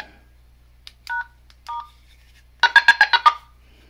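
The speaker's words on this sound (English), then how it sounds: "it's just the DTMF" A Baofeng DM32 UV handheld DMR radio emits a short series of DTMF keypad tones: a few separate beeps, then a quick run of about six tones, clear and close against a faint background hum.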